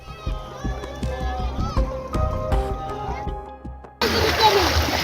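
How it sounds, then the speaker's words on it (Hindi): Neighborhood children splash and play in Ganga floodwater in Bihar, with excited kids' voices, shouts and splashy bursts up close, then a sudden wash of rushing, sloshing water at the end. "मोहल्ले के बच्चे बाढ़ के पानी में अटखेलियां करते भी नजर आते हैं"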